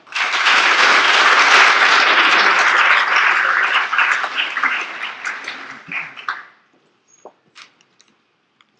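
An audience applauds loudly and steadily as Professor Robert Costanza is welcomed to the podium, the clapping thinning and tapering off after about six seconds into scattered claps and near silence.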